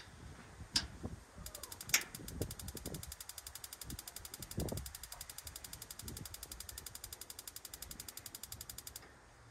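Gas hot water heater igniter in a camper trailer ticking rapidly and steadily for several seconds, faint and close, over quiet background rumble and occasional soft knocks.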